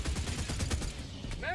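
Rapid gunfire from a weapon in Helldivers, a dense, loud burst of overlapping shots fired close until the magazine runs empty, then a brief drop and a short rising tone at the end.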